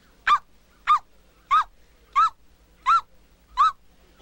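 A man imitates a dog barking with seven evenly spaced, clipped woofing yelps. The voice is close and clear, with brief silences between the calls.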